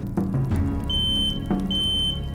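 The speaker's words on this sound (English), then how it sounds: "we use our abilities to activate the cooker and set off the alarm" A video game smoke alarm, set off by a kitchen cooker, emits repeated high-pitched electronic beeps, two sustained tones over clattering background noise.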